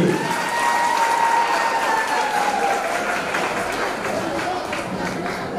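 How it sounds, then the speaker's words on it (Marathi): A crowd at a school celebration claps for the students in a sustained, fairly loud roar of applause, with a faint tonal whine and voices mixed in underneath. "तर एकदा टाळ्या होऊन जाऊ द्या"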